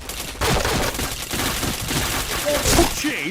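Video game gunfire crackles in rapid bursts, loud and busy, mixed with excited voices talking over the shots.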